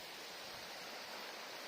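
River flowing through woods at Brignall Banks, County Durham, a steady broadband rush of running water, fairly faint and continuous with no voices.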